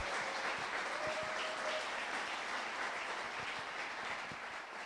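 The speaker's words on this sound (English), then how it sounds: "So again, quick round of applause for all the entrepreneurs in the room," Audience applause for entrepreneurs at a startup pitch event fills a large room as a steady, fairly faint and distant wash of many hands clapping, tapering slightly toward the end.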